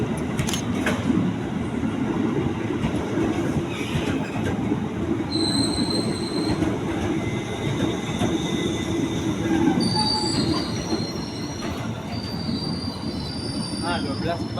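A commuter train rumbles through Bogor station loudly and continuously, with high metallic wheel squeals rising and fading over the steady roar of the cars.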